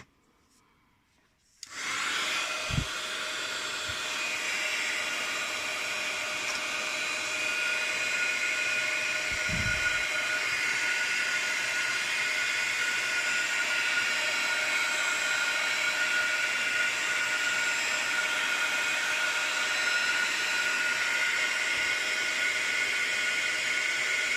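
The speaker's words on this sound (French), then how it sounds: "Et on passe au heat gun." A heat gun switches on and blows hot air onto a scrapbooking project, giving a steady, loud, close whooshing roar that runs without a break and is preceded by a moment of silence, with a couple of faint knocks early on.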